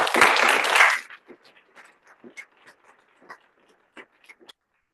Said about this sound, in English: Please give me a round of applause to thank Bob Pine